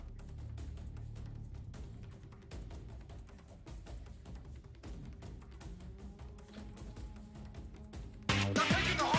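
A Twitch stream raid alert during a gaming stream bursts in loud and bright near the end, cutting over a busy bed of background game audio and tapping.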